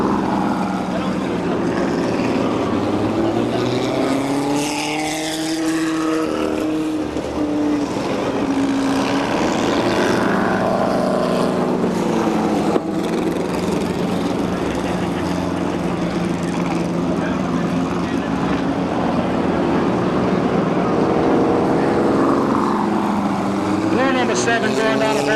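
A vintage 1960s or 1970s West Coast-style super modified race car roars around Seekonk Speedway during weekly racing in 1999, its loud engine note climbing and falling in pitch as cars sweep past.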